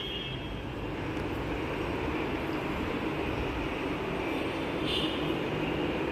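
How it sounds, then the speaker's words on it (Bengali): A steady, loud rumble of a metro train rolling past, constant throughout with no pauses, heard close by and without any voices. "ওখানে মেট্রো রেল মেট্রো যায়"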